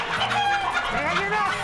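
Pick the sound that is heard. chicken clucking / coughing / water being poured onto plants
chicken clucking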